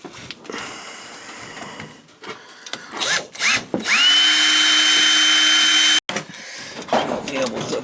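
A power drill drives screws into a dryer's gas fitting: the motor spins up, holds a steady, loud whine for about two seconds, then cuts off abruptly, with clattering handling noise before and after.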